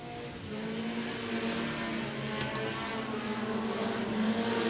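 Modified production race cars, including a Toyota Corolla, roaring off the start at Gympie Speedway at night, a dense pack of engines droning and building steadily, with a brief tyre squeal partway through.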